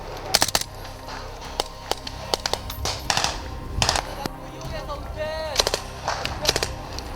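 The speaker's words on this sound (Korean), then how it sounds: "훈련부대의 사격 솜씨는 대단했다" Rifles fire during a military combat training exercise at KCTC, the Korean army's combat training centre, with sharp scattered shots both near and distant. Voices talk over the gunfire.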